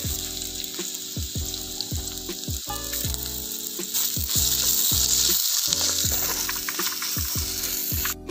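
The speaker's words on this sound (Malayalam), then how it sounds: "ഇനി നമുക്ക് സവാള ആഡ് ചെയ്ത് കൊടുക്കാം" Onions and curry leaves sizzle in hot oil in a pan while a Kerala-style fish molee is prepared: a loud, close frying hiss runs throughout, broken by repeated rattling, ratchet-like clicks.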